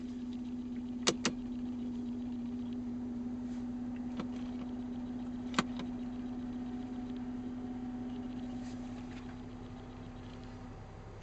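A Range Rover Vogue SE diesel heard from inside the cabin, its engine a steady low hum as it pulls away, with a few sharp clicks from the controls early on and the drone easing off toward the end.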